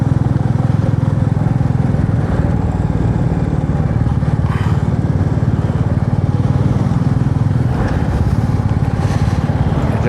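A Royal Enfield motorcycle on a ride toward Mustang gives a steady, loud, low engine drone that stays constant throughout, with no speech heard over it.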